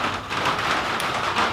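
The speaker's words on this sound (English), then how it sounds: "here comes the rain." Steady rain falling outdoors at a homestead, a continuous broadband patter that holds at an even, fairly loud level throughout with no voices.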